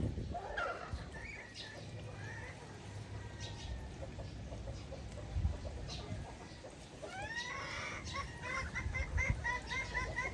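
Backyard chickens and ducks clucking and calling at a steady, moderate distance for about ten seconds, with scattered overlapping squawks and a continuous rustling farmyard background.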